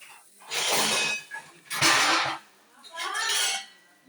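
A woman washes dishes, pots and pans at home, with three bursts of clattering and scraping metal vessels, each lasting about a second, close by and fairly loud.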